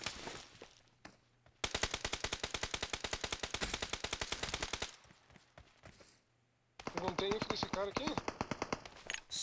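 Rapid automatic gunfire from a Thompson submachine gun in PUBG Mobile, loud sustained bursts of dozens of shots with a pause between sprays, voices talking at the start and under the later burst.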